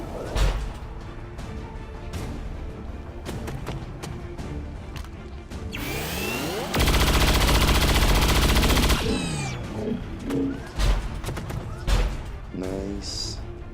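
Gunfire from an XCOM 2 battle cracks out in several sharp bursts, including a sustained loud volley in the middle, all mixed with a player talking over the action.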